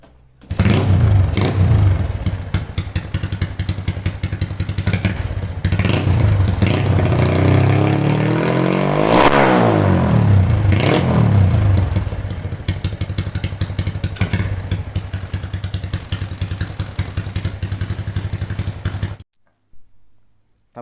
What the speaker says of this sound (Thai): อันนี้ก็คือเสียงของท่อลั่นลั่นสมชื่อนะครับ